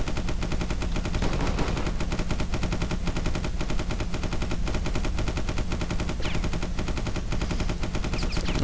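Dense, loud gunfire from a spaceship battle in the video game Starfarer, rapid shots hammering almost without pause from start to end.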